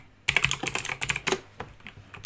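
A short, quick burst of keystrokes on a computer keyboard is heard up close, with a crisp run of clicks followed by a few slower taps.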